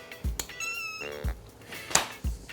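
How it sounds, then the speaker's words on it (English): A house cat meows several times in quick succession, the clear, moderately loud calls rising and falling in pitch, with soft thumps between them and no talking. "And we have a cat."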